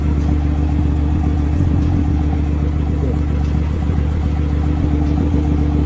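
A car engine revving, loud and close, holding a steady heavy drone for several seconds with a rough clattering edge and no talk.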